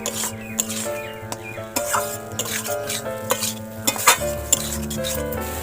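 A spatula stirs an egg mixture with soy sauce and tomato sauce in a pan, making soft scrapes and light clinks against the metal over a low, steady background tone.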